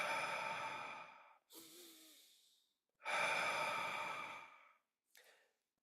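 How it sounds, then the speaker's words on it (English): Deep, slow breaths drawn in through the nose and pushed out through the mouth during a somatic breathwork exercise; two long, loud breath cycles, each a steady inhale followed by a softer exhale, close and alone with no talking. "breathing in through the nose and out through the mouth, still keeping it in that circular fashion"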